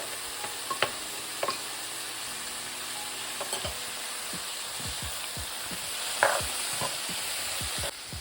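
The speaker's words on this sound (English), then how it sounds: "So I'm just cooking this down until the vegetables are soft." Vegetables and minced garlic sizzling in a pot on medium heat, a continuous crackling fry with occasional sharper pops and stirring scrapes, close and steady throughout.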